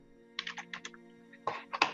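Computer keyboard keys click in quick uneven bursts, fairly close and soft, picked up by a microphone during an online tabletop roleplaying game session, with a faint steady hum behind them.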